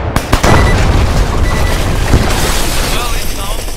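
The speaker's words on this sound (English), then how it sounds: "I can't hear him because of a big fucking gun shooting." A big gun firing during a military video game firefight, a loud sustained barrage of booming shots that fills the whole clip without pause.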